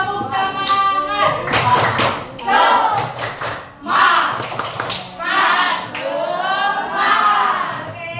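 A class performs a spirit clap (tepuk semangat) with repeated bursts of hand claps and thumps, mixed with young voices chanting along in rhythm throughout.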